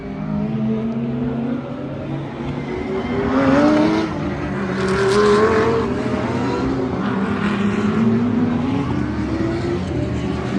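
GT3 race car passing at Spa-Francorchamps during the 12 Hours of Spa, its engine swelling as it approaches, peaking close by, then fading as it pulls away, with steady track noise underneath.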